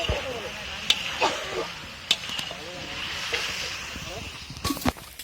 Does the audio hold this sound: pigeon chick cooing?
no